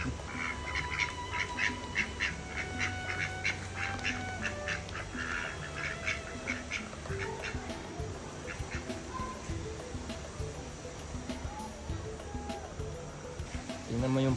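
Ducks quacking around a pond with large tilapia in Bali, repeated nasal calls scattered through a constant wash of moving water, with people chatting in the background.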